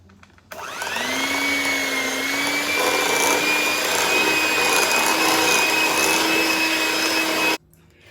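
An electric mixer blends strawberry cake batter tinted with red food coloring, whirring in a loud, steady high-pitched drone that starts abruptly, runs for about seven seconds, then cuts off, with no voices.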